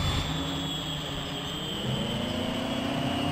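Big Bud tractor engine in Farming Simulator 17, a steady low droning roar with a rising whine layered over it, continuous and fairly loud with no talking.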